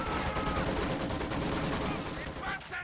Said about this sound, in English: Maxim turns to fire on the Sturm Pioneers